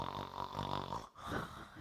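A person imitates snoring with a rough, buzzing, nasal rattle, broken by a short pause before a second snoring breath, close and moderately loud.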